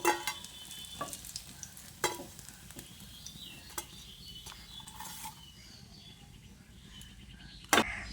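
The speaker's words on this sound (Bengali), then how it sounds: "এইভাবে উল্টে পাল্টে বড়া বা পকোড়াগুলোকে ভেজে নিতে হবে।" Ridge gourd pakoras fry in hot oil with a soft continuous sizzle, punctuated by sharp clinks and scrapes of a utensil turning them in the pan.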